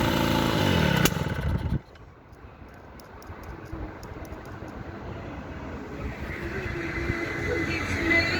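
A Peugeot 103 moped's small two-stroke engine buzzes loudly up close, then cuts out abruptly as it is switched off, leaving a low outdoor background rumble with faint passing traffic.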